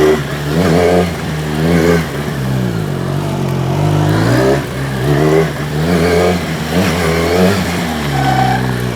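A motorcycle runs a straight-line pylon slalom in a moto gymkhana drill. Its engine revs and eases off in a steady rhythm of repeated accelerations, loud and close throughout, with no talk.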